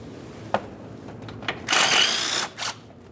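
A power tool backs out the mounting bolts on a 1998-2011 Ford Ranger 2.3L L4 during a thermostat and housing replacement. It makes a few faint clicks, then a short whirring burst and a brief second spin.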